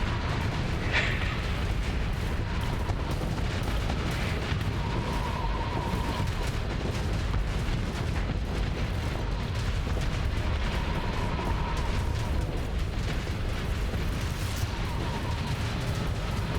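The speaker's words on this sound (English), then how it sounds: "Oh, you're talking cannon." Cannon fire in the space combat game Starsector rumbles as a dense, continuous barrage of booms and blasts, loud and unbroken, with faint tonal game sounds drifting over it.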